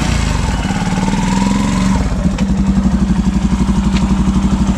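Yamaha FZS V3 motorcycle engine run up in a direct pickup test, a close, loud single-cylinder putter that rises in pitch then settles into a fast, throbbing beat with a clattery edge.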